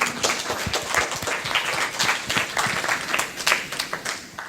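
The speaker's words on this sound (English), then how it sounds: "I think this deserves a huge round of applause for all of you." Audience applause at a Women Who Code Asia director panel, a dense, steady patter of many hands clapping close by throughout, with a few louder individual claps standing out.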